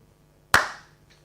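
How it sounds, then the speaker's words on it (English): A single crisp hand clap in a quiet lecture room, sharp and close, with a brief ringing room decay afterward and a faint tick just after. "No, just one clap."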